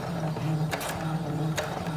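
A sewing machine stitches a zipper pouch. It runs in a steady, muted mechanical whir with faint rhythmic clicks, quiet and close, and no talk is heard.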